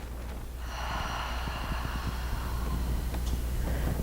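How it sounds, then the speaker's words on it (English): A deep exhale pushed out through the mouth during a yoga cool-down, a long breathy rush of air that starts about half a second in and holds steady and close for several seconds over low background rumble. "Take a deep inhale in, and exhale it out through the mouth."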